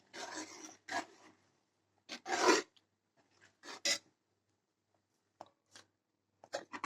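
Banana payasam stirred in a pot, with a series of short, rough scraping strokes of the utensil against the pot coming in separate bursts with quiet gaps between, close and fairly faint.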